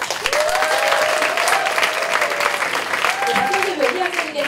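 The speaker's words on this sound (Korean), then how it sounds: "다시 한번 뜨거운 박수 부탁드리겠습니다" Audience applause fills a school arts festival opening ceremony after a congratulatory speech, steady clapping throughout with a voice talking over it.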